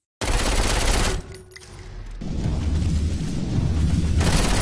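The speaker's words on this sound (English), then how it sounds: "Fire. Particularly flaming bullets." Flaming bullets fired from a superpower in Saints Row IV, loud rapid automatic gunfire in two long bursts separated by a lull of rumbling noise, close and forceful.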